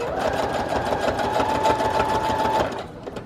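A sewing machine stitches in a steady close whir with a fast mechanical tick, running for a few seconds before easing off, with no voices.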